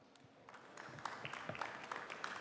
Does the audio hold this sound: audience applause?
yes